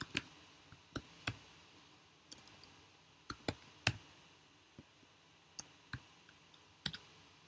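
Computer keyboard keys clicking as C code declaring a double variable is typed; sparse, irregular crisp taps, sometimes in quick pairs, over a quiet room background with no talking.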